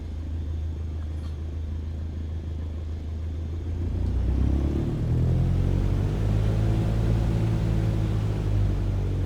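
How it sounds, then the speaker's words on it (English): Aircraft engine in Flight Simulator throttling up for taxi, a steady low rumble that swells and rises in pitch partway through, close and loud with no talk. "Now, gently increase throttle to get the aircraft moving."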